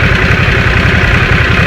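A Harley-Davidson Nightster engine idles close and loud, a throbbing low-pitched pulse with a steady, rapid beat.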